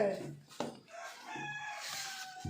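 Chickens cluck and a rooster crows nearby, with a few short hen calls and some background voices.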